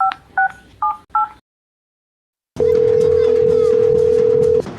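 A quick series of four telephone keypad tones, then a pause of silence, followed by a long steady ringing tone over background noise.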